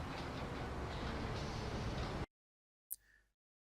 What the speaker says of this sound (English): Let's get that train in.